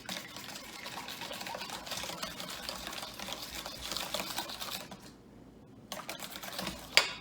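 An electric hand mixer whirs steadily through cinnamon bun batter with ingredients added one after another, running continuously at close range before a brief pause and a sharp clack near the end.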